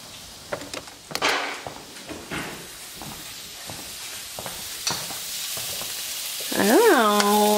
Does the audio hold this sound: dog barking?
no